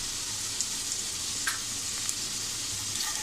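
Malvani masala sizzles steadily as it is sautéed in a pan, a dense continuous hiss with a few faint scrapes of stirring, close and without talk.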